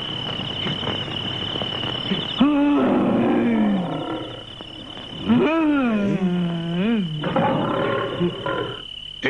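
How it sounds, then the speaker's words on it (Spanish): A tiger roars in a 1979 film, several deep drawn-out roars rising and falling over a constant background of chirping insects. "Esos rugidos, me parece que aquí hay un tigre."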